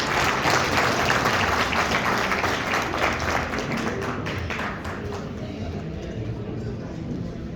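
Audience applause at a school gala, a dense crowd of clapping hands that holds steady for several seconds and then thins out slightly toward the end, with some talk underneath.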